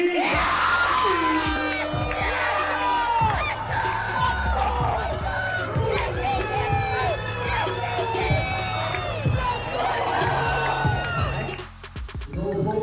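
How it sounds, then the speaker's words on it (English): A live event crowd in a packed hall roars and cheers loudly for the Red Hot champions FPG at a game, with shouts, whoops and scattered voices layered over a dense, sustained din that dips briefly near the end. "please give a warm applause to FPG!"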